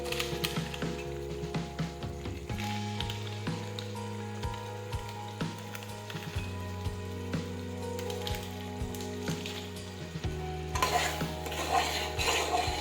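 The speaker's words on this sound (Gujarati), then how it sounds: "હવે આપણે સાતળી લઈશું. આ રીતે આપણે સાતળતા જઈશું." Pav bhaji being sautéed and stirred in a pan, a steady sizzle under repeated scraping and clanking of the spoon against the metal, continuous throughout and growing busier toward the end.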